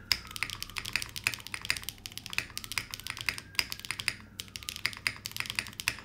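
Typing on a T9 Retro mechanical keyboard, a steady run of close, crisp key clicks with a few deeper spacebar thocks, clear and alone.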